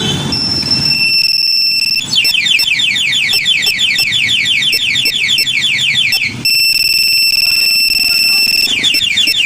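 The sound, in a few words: two-way motorcycle alarm on Raider 150 Fi sounding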